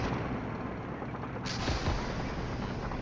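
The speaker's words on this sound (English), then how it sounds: "That ATGM is firing at me." An anti-tank guided missile launch in the Flashpoint Campaigns: Southern Storm wargame produces a dense, loud rumbling blast with a continuous roaring wash and a sharper burst partway through, no voices.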